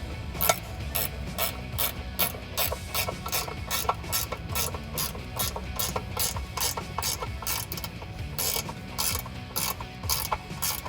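A hand ratchet tightens bolts on a Jeep Wrangler JL DV8 rear Dana 44 differential skid plate, giving a long run of quick, even clicks in steady bursts, close and clear with no talk.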